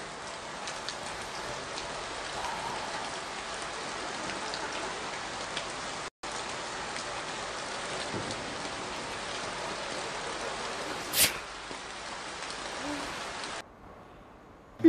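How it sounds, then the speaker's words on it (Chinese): A rain sound effect plays during a stage comedy sketch, a dense, even patter of falling rain that lasts throughout. One brief bright clatter stands out near the end, then the rain drops away. "就下雨了呗。"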